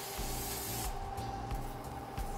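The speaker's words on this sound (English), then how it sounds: "I'm gonna spray these grates a little bit." Cooking spray hisses onto the grill grates in a steady close burst, pausing briefly and then resuming, during a roast pork loin demo on a Kalamazoo grill.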